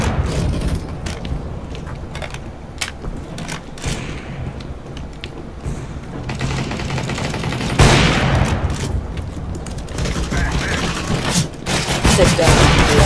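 Sniper rifle fire in Counter-Strike: Global Offensive, loud sharp shots ringing out at irregular intervals amid other gunfire and mechanical clicks, with a voice talking over parts of it.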